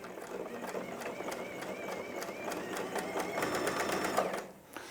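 A sewing machine stitches fabric for a scarf with a fast, even rhythmic whir that speeds up toward the end before stopping, alongside quiet talk.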